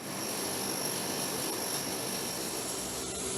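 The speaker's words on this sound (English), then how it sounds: "The propellers on the right wing, engine numbers 3 and 4, initiate the starting sequence" A C-130's right-wing propeller engines, numbers 3 and 4, starting up on air from the APU, making a loud, steady, close roar with no break.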